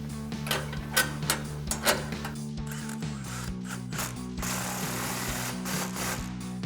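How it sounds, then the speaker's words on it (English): An impact wrench with a 13mm socket tightens a factory exhaust clamp under a Sierra 1500 pickup, giving rapid rattling hammer bursts over a steady low hum, fairly quiet and close. "So I grab my impact 13mm socket."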